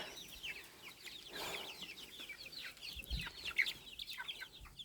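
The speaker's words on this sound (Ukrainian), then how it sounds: "Оце півничок. Кохінхінчик ось, півник також." Chicken clucks and Cochin rooster calls come in short bursts over a low farmyard hum, fairly close and moderately loud.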